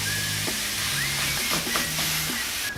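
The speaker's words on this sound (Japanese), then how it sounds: "ここにひき肉を入れていきます。" Ground meat sizzles in a small frying pan with onion and carrot for a meat sauce, giving a steady close crackle with a few stirring scrapes and no talk.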